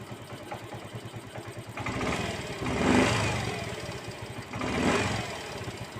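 A tuned Yamaha Mio 125 scooter engine runs close by at a steady idle, then is blipped twice, with two rising-and-falling revs around the middle and the end.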